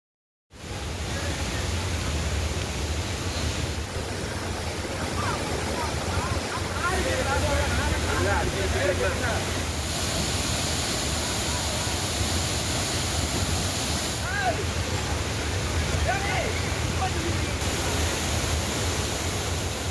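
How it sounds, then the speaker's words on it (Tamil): Torrential floodwater pours over the Courtallam waterfalls during a flash flood, a loud, steady, unbroken roar of rushing water that holds for the whole stretch with no talk over it. "குற்றால அருவிகளில் காட்டாற்று வெள்ளம் கரை புரண்டு ஓடுகிறது"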